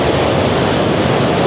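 Rushing water from the Falls of Dochart, a side channel before the main falls, pours in a dense, loud, steady roar at close range, with no voices.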